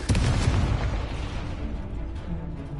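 Fiery Confringo spell blasts in Hogwarts Legacy, a loud booming burst up front that rumbles and fades into a lingering crackle over a few seconds.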